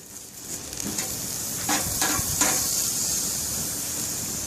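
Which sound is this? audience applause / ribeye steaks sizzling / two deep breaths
ribeye steaks sizzling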